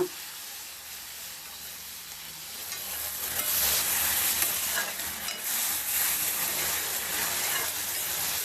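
Turmeric is stirred into mushroom gojju in a pan; a soft stirring rustle swells into a louder, brighter sizzle partway through and stays steady to the end, with no voices.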